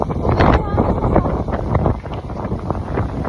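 Strong, gusty Super Typhoon Bavi wind in Guam roars steadily into the microphone, a dense rushing blast that buffets the mic without letup.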